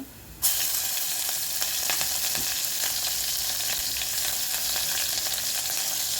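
Hing and green chillies dropped into hot oil for a tempering set off a sudden loud sizzle that holds as a steady crackling hiss.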